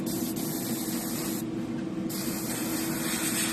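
A steady close hiss of aerosol sealer sprayed in a thin layer onto a Zombie Shad fishing lure, holding continuously with a brief dip partway through.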